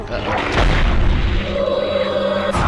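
The Flipendo spell being cast in the Harry Potter PS1 video game, a loud booming blast with a rushing, ringing tail that swells and holds before cutting off.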